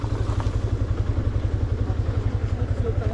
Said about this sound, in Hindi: जैसे ही बाइक मैंने स्टार्ट की ठीक हो गई यार